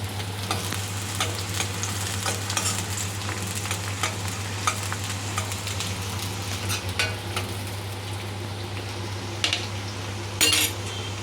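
Onion and green chillies frying in a pan for rice uppittu, a steady close sizzle with occasional stirring scrapes and light utensil clinks throughout, no talking.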